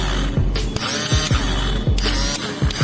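A self-starter motor from a Hero Super Splendor motorcycle, repaired after a carbon brush fault, runs on the bench with a loud, steady whirring drone broken by recurring ratcheting clicks, close up.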